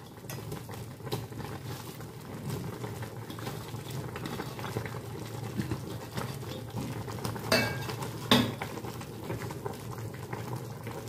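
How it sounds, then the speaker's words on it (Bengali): Chinese malatang hotpot with noodles and spring onion bubbling and simmering in a pot, a steady close, soft boiling patter with faint clinks of utensils and a couple of brief louder knocks near the end. "আর একটু ফোটাবো, একদম তৈরি, আর একটু ফুটলেই এটা হয়ে যাবে।"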